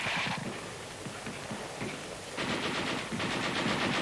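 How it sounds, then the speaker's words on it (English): A World War II US Army heavy machine gun fires rapid bursts, dense rattling strings of shots separated by brief pauses, loud and close with no voices. "Occasional bullets sprayed on his position will make him think twice before he pokes his head out."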